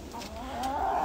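Farm chickens clucking softly nearby, a brief run of low, rising clucks with a faint ongoing background hum.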